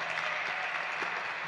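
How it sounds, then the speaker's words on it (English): A congregation claps at a Saturday vigil Mass for the first Sunday of Advent, a short burst of dense, even applause filling the church. "Give yourself a round of applause."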